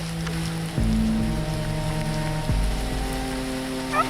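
Rain falls through thick foliage during a boar hunt in the woods, a steady close patter and hiss with a low droning hum underneath.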